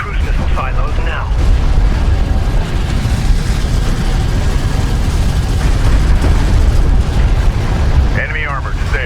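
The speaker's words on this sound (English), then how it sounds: "The Galcian are pummeling the Sakala with long-range missile barrages." Long-range missile barrages exploding in the Homeworld: Deserts of Kharak strategy game, a loud, continuous rumbling roar of blasts and mechanical noise, with brief voice fragments near the start and end.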